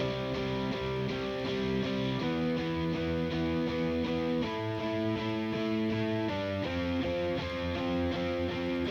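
Grunge-style electric guitar part doubled an octave higher, with the lows and low mids cut, playing sustained chords that change every couple of seconds, steady and loud with no talking.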